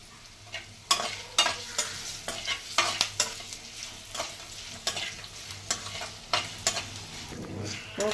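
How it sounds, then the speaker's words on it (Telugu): Tempering of turmeric and asafoetida frying in hot oil for lemon rice, a soft steady sizzle broken by repeated spoon-stirring scrapes in an uneven rhythm, close up and quiet. "పోపు చక్కగా వేగిపోయింది"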